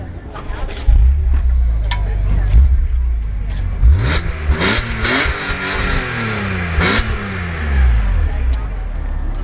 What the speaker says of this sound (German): Gib mal richtig Gas geben, oder?